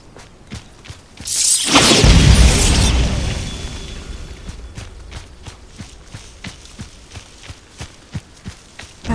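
A Bombarda blasting spell explodes in Hogwarts Legacy: a loud whooshing boom erupts after a second and rumbles away over a few seconds, followed by steady footsteps.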